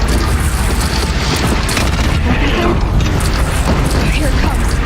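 Missiles explode against Aloy in Horizon Zero Dawn, dense loud booms and crashing blasts filling a constant thick roar of game combat, with a voice speaking over the din.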